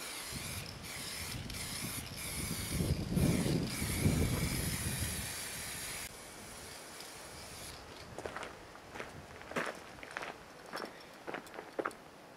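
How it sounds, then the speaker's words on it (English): An aerosol spray can hisses steadily as paint goes onto a car's rear wheel arch, a long close spray followed by several short bursts and footsteps. "we've sprayed one rear wheel arch"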